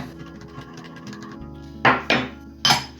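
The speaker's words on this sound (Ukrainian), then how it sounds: "перемішаємо та накриємо кришечкою" Soft scraping and light clinks up close as instant pea soup with boiling water is stirred in a cup, then three sharp knocks of a lid or utensil against the cup, spaced a little unevenly.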